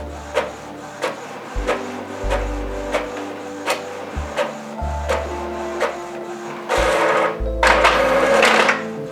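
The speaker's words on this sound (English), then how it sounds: "While printer is copying" An Epson EcoTank L5310 printer copying a page, with repeated mechanical whirs and clicks at an irregular rhythm and louder sustained feed noise near the end, close and without talk.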